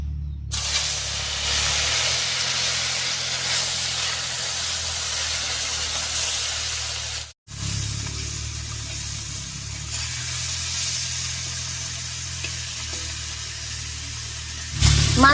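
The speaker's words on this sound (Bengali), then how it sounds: "এবারে কড়াইয়ে সরষের তেল দিয়ে মাছগুলো সব ভেজে নেব।" Boreli fish frying in mustard oil in a wok, a steady close hiss and crackle that runs for most of the time, broken by one short cut partway through, with no talk.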